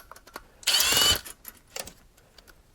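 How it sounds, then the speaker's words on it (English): A Milwaukee impact wrench on a low setting spins fittings off a hot water relief valve assembly in one short, loud burst of rattling hammering, with faint handling clatter before and after. "I'm on like a number 1 on my Milwaukee impact wrench here"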